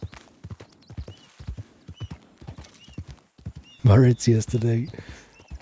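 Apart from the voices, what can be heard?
horse hooves clip-clopping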